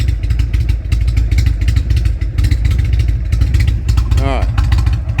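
A heavy motorcycle of about 1,100 pounds idles and runs steadily nearby with a loud, constant engine drone and some clatter, and a brief whining sweep near the end.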